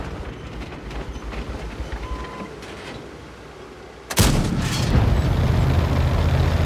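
The main gun of a Stridsyxa tank fires on the Prokhorovka map in World of Tanks: a single loud, sharp blast cuts through quiet engine rumble, then a heavy, sustained roar lingers afterwards.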